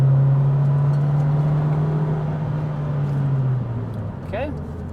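A Renault Twingo 2 RS engine drones at full throttle, a loud, steady tone from inside the car that holds for several seconds and then drops off, with a brief chirp near the end.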